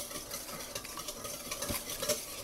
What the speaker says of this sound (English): I'm using an egg whisk for this